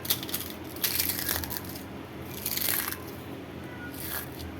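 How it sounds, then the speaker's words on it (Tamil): Fried sago (sabudana) vathal crisps being crushed by hand, giving several bursts of dry crackling crunch in quick succession, close and fairly loud, with no talk. "நல்லா சவுண்டு கேட்குது பாருங்கள். நல்லா நொறுங்குது."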